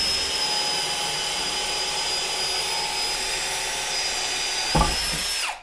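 A cordless electric drill whines steadily at high pitch, with a brief thump near the end as it bites, then winds down.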